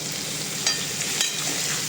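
Spring onion greens frying on high heat with red chilli powder and turmeric give a steady, close, bright sizzle, with a couple of brief clicks of a spatula.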